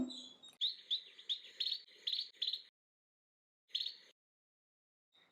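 Small birds calling outdoors to a fledgling that has just left the nest, a quick run of bright chirps followed by a pause and then a short second burst, fairly close and clear with no talking.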